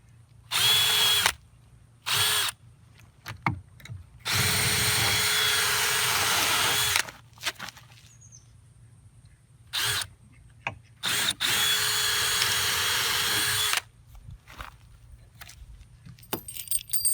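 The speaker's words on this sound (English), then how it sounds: "I'm going to go ahead and start starter hole, get the lag bolt going" Power drill driving 1.5-inch lag bolts with a 3/4-inch socket into a floating dock post, in several loud bursts of whirring a few seconds long, separated by quiet pauses and small clinks, close by.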